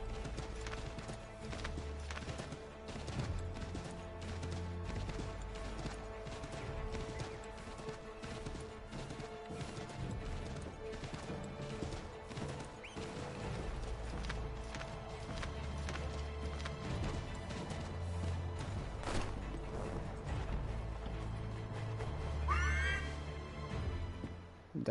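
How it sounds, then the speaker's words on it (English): A panicking horse in an Assassin's Creed-style video game, with rapid heavy hoof clopping running almost continuously, scattered crashes and a short whinny near the end. "Dang, my horse is freaking out."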